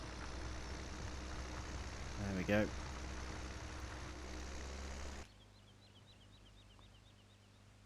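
A Massey tractor engine runs steadily while ploughing a field, a loud continuous low drone that stops abruptly partway through, leaving quieter background; a person speaks briefly over it.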